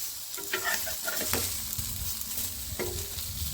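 Fish sizzling as it fries on a flat tawa, hotel style, a steady close crackle with scraping stir strokes from a utensil throughout.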